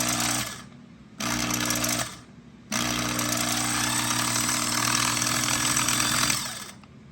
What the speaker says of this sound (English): So the starter seems to be working fine.